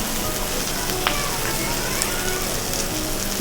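Masala with chili powder sautéing in a home kitchen pan, a dense steady sizzle hissing continuously up close with faint clinks, no talking.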